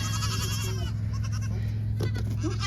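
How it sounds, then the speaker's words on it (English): Goats bleating outdoors in snowy weather, several wavering calls against a steady low hum of wind and ambience, with a short bleat near the start and a couple of fainter ones toward the end. "Hi, my little snow goats."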